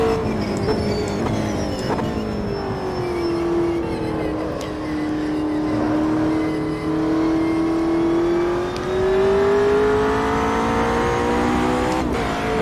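A race car engine in a VR sim racing game drones steadily at high revs, its pitch dipping and rising through corners, with someone talking over it.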